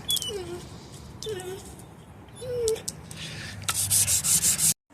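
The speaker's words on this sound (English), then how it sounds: "just hand sanding the blade." A forged knife blade is hand sanded in steady back-and-forth rubbing strokes, close and fairly loud, while faint squeaks and a voice sound in the background; a rapid scraping run closes it.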